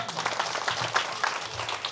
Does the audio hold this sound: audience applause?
yes